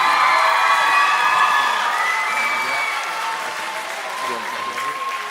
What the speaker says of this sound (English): can we give one more round of applause for Mr.